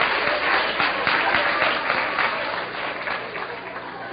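An audience at a talk on sexuality and spiritism applauds steadily and loudly, dense clapping that gradually thins toward the end with no voices over it.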